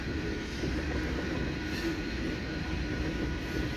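A freight train led by two Norfolk Southern locomotives rolls past close by on the Council Bluffs to Bailey Yard line, a steady, loud rumble and wheel roar with no break.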